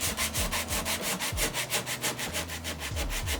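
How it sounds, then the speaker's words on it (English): Sandpaper rubs steadily back and forth over a carved lime wood leaf panel, close and fairly quiet, in an even repetitive scratching rhythm with no talk. "you've got to sand everything a few times because you've got to work up through the grit"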